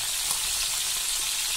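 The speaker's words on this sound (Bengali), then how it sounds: "দেখছেন একদম হালকা করে কিন্তু আমরা মাছগুলো ভাজছি" Rohu fish pieces frying lightly in a pan over a medium flame, a brief, even, close sizzling hiss with no voices.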